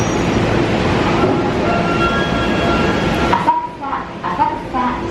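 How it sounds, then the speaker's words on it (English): A train pulls into a Tokyo station with a loud, steady rumble of wheels on rails that drops away near the end. Faint squeals and announcement-like tones follow. "Our trains arrived."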